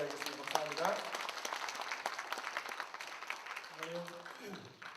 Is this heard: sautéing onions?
no